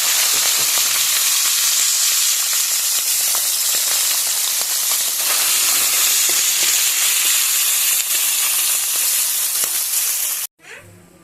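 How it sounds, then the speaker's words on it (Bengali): Small fish fry in hot oil with a loud, dense, continuous sizzle and crackle that stays steady before cutting off abruptly near the end. "মাছগুলো সব ভেজে নিয়েছি"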